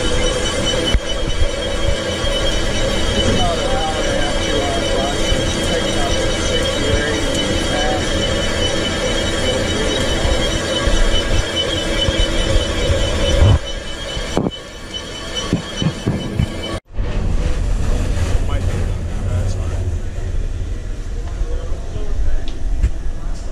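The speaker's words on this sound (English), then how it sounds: "So we've got it, the valve in the lathe. Now we're going to cut this spud out." Lathe cutting the spud out of an isolation valve, a loud continuous grinding drone with a squealing metal-on-metal whine, briefly dropping out partway through before resuming.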